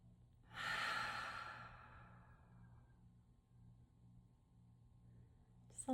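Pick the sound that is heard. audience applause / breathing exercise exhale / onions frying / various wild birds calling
breathing exercise exhale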